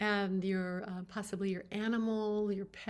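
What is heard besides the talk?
None of the usual background noises is heard.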